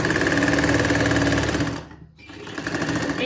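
A sewing machine stitches around a kameez neckline, running in a fast steady whir for about two seconds, briefly slowing to a near stop, then picking up again close by with no talk.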